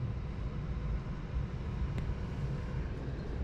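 A steady low engine rumble from a just-started Citroën C3 Aircross 1.2-litre runs throughout at an even level, with a broad constant hum and no talk.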